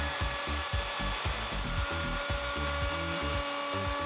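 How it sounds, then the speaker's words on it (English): A router cuts a T-Track groove into a wooden workbench top, its steady high whine running throughout over a rhythmic, grinding rumble as the bit chews through the wood. "I finished up the routing and the T-Track groove turned out pretty much perfect."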